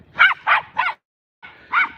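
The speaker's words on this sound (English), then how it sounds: "that bark is so piercing" A dog on a busy pet-care livestream with several dogs lets out three loud, piercing barks in quick succession, then a short silence and one more sharp bark, close and alone.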